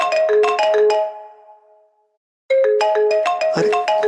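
A mobile phone plays a loud, close melodic ringtone in two phrases split by a short silent pause, with no one talking over it.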